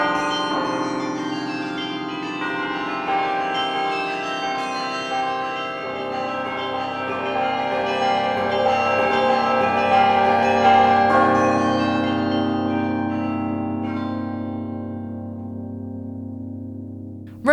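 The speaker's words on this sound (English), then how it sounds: "Let's listen to a musician playing a carillon console in Belgium's St." Carillon bells in St. Rumbold's Cathedral, Belgium, played by a musician at the console, ringing a sustained melodic tune of many overlapping pealing tones that hold steady and fade out at the end, with no voices.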